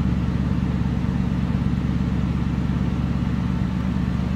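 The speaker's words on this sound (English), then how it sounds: "Let you hear that nice throaty exhaust on these." A car engine rumbles continuously with a deep, throaty exhaust note, steady and close with no voices.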